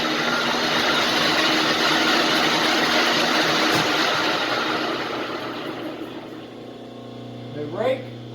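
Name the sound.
Rockwell lathe running up to speed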